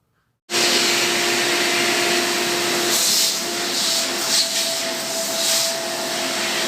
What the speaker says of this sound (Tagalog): Umalis yung madam kaya mag-vacuum ako.